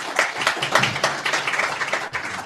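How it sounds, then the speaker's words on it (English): A dense burst of audience applause for panel guests at a cable TV, film and broadband event: many hands clapping together, loud and sustained, with almost no talk. "Please give a big round of applause to our esteemed guests."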